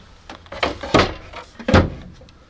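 Wooden dresser drawers inside a converted bus slide and thump shut several times in quick succession, close and fairly loud, with the knocks spaced irregularly.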